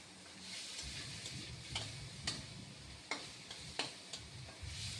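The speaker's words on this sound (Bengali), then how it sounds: "ভালোভাবে ফ্রাই করে নিচ্ছি সবগুলো।" Ginger-garlic paste fries in a pan with a steady low sizzle, broken by a few sharp ticks of a utensil stirring against the pan, close and moderately quiet, with no voices.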